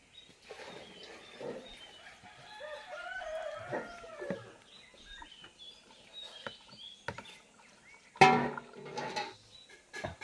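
A rooster on a rural farm gives scattered clucks, then a sharp, loud crow in the latter part, with quieter fowl calls in between. No one speaks.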